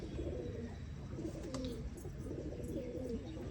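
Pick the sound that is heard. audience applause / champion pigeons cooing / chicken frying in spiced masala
champion pigeons cooing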